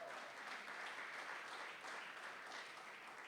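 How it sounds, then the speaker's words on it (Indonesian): Church congregation applause during a worship service, a soft, distant and continuous patter of many hands at a low, steady level. "Tepuk tangan untuk Tuhan Yesus."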